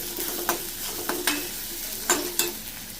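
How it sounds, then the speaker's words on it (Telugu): Ginger garlic paste frying with onions in a pan for an egg and fenugreek leaf curry: a steady close sizzle runs throughout, broken by four or five sharp spoon scrapes and knocks from stirring, with no talking. "ఇది ఉల్లిపాయలు ఇలా వేగాక ఇప్పుడు అల్లం వెల్లుల్లి పేస్ట్ వేసుకుందాం"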